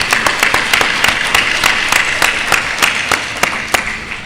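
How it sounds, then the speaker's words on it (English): A conference lunch audience applauds, with crisp individual claps standing out over a thinner crowd wash, loud and close, continuing evenly for several seconds. "let's again give them a round of applause"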